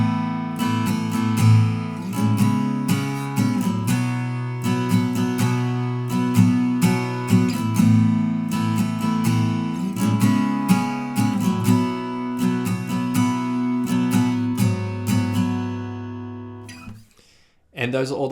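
Steady down-up acoustic guitar strumming of a song's chorus, played in open position without a capo, continuous chord strums for most of the passage before a brief stop near the end.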